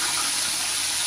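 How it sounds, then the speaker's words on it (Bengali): Fish sizzles in a hot frying pan as it is flipped, a dense, even hiss that stays loud and constant for about a second. "এই যে মাছগুলো এখন উল্টা দিচ্ছে।"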